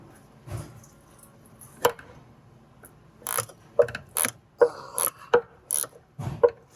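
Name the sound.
wrench loosening a sway bar link nut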